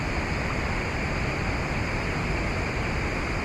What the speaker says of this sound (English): Got a nice sound of water.